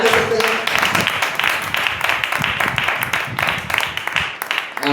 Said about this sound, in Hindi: क्या धन्यवाद दे सकते हैं, ताली दे सकते हैं?